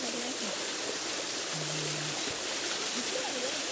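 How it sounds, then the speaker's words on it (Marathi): A waterfall pours with a steady, broad rush of water, continuous and fairly loud throughout, with faint voices and a brief low hum partly under the roar. "हे बघू शकता पहिला धबधबा"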